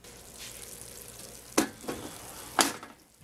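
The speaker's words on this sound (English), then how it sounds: "can you see it boiling? It is bubbling and a-boiling." Honey nut butternut squash comes hot from the oven, bubbling and sizzling softly in its dish, with two sharp, close knocks of the pan or a utensil breaking the low hiss.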